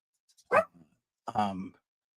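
Two dogs bark indoors in two short bursts with a soft whimper between, close, separated by brief silence.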